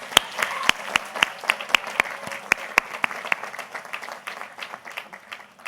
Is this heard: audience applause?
yes